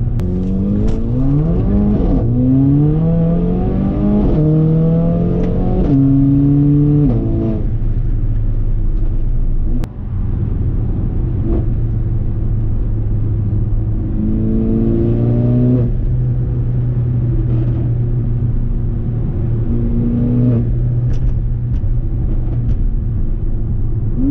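Mercedes GLA45 AMG with a TCU tune pulling hard through the higher gears, engine note climbing loudly then dropping at each upshift, repeated several times, close and continuous with no talk.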